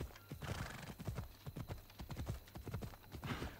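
A horse gallops in Assassin's Creed Odyssey, its hooves clip-clopping in a fast, steady rhythm across open ground, with an occasional whinny and a low background hum.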